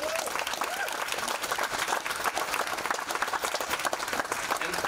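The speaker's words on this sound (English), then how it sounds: "So how about giving those Burke Mountain parents a round of applause?" Audience applauding parents at a community event announcing funding for a second school on Burke Mountain, steady dense clapping throughout, loud and sustained with no pauses.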